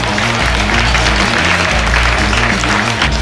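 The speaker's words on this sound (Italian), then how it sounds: "Un applauso ai nostri sponsor." Audience applause for the sponsors at the Miss Città Murata 2024 fashion show, dense steady clapping that fills the whole moment at full loudness, with music underneath.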